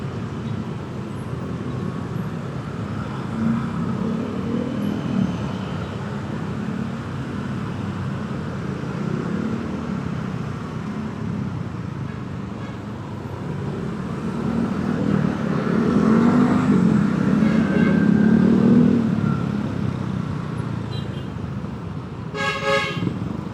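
Dense traffic crawling along a Jakarta city road, a steady roadway rumble with engines idling and creeping close by, swelling louder near the end as a burst of short car-horn toots sounds at the finish.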